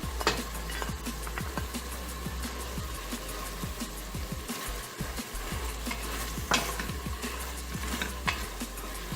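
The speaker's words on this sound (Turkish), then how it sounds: "Şimdi birkaç dakikada soğanla yeşil biberimizi kavuralım." Onion and green pepper sizzle softly as they are sautéed in a pan alongside browned meat, with frequent scraping stirs and light utensil clicks over the frying hiss.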